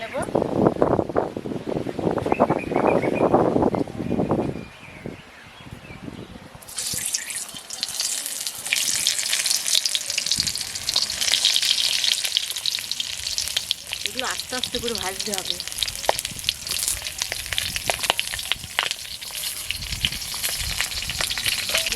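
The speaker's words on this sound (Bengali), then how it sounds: "এই পুরো করা পটলগুলো এবার ভেজে" Stuffed pointed gourds frying in oil, a dense crackling sizzle that swells halfway through and holds steady, with a voice speaking over the opening seconds.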